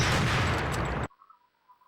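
Rapid gunfire from the video game Global Defence Force, a loud dense burst of shots lasting about a second that cuts off abruptly, leaving faint electronic game tones.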